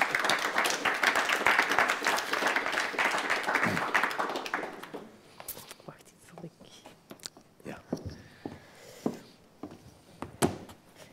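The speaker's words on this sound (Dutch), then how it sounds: "Applaus graag voor Saskia de Koster." Audience applause at a literary event with two authors fills the first few seconds, then dies away into scattered claps, taps and small room noises with murmuring voices.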